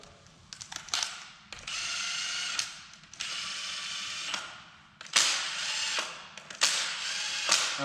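A hand ratchet tightens engine bolts to 22 foot-pounds on a built 408 stroker motor for an S10. About six bursts of quick, close clicking are separated by short pauses.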